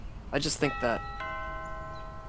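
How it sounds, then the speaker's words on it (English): A two-tone doorbell chime rings in a video game, its bright sustained tone lingering and fading after a burst of voices at the start. "Vincent's doorbell rang and ruined the moment."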